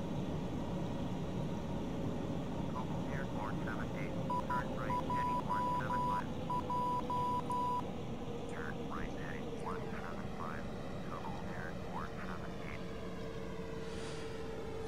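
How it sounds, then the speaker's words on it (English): A call button beeps in an Airbus A318 flight simulator game cockpit: a run of short, evenly spaced electronic beeps that stops partway through, over a steady engine drone and scattered chirps. "I'll turn off the call button as well, so that we don't have that beeping noise bothering us all the way down."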